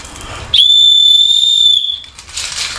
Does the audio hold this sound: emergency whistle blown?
yes